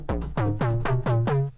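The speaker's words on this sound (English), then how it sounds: "that sound is from the OP-XAV." An OP-XAV synth bass preset plays about six punchy plucked notes in a steady rhythm, each with a sharp attack and a short decaying tail, loud and alone.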